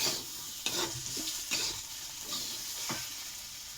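Small fish with salt being stirred in a pan, a spatula scraping and tossing in several distinct strokes over a soft sizzle, close and moderately quiet, no voices.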